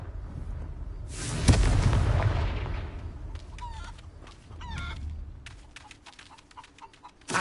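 Confringo blasting spell going off in a Hogwarts video game, a booming explosion with a rumbling tail, followed by scattered crackling and clattering debris and a final thump.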